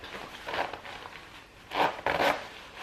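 A jacket zipper is pulled up in short rasping strokes, close and fairly soft, with a couple of quick louder zips near the end.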